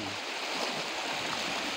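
Labangan River in Naitan, Occidental Mindoro, Philippines, flowing: a steady broadband rush of moving water, even and continuous, with no voices.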